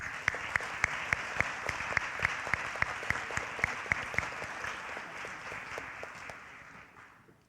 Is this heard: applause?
yes